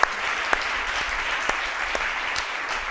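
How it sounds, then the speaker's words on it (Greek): Steady applause from a television studio audience on a Greek talk show, a dense even wash of clapping with a few sharper claps standing out, holding for several seconds. "Ένα χειροκρότημα στον Σοφοκλή."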